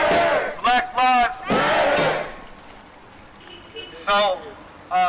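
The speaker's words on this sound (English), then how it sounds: "Give her another round of applause, please." Crowd at an outdoor justice rally in Minnesota, loud bursts of voices shouting and cheering in unison, with quieter murmuring between the surges.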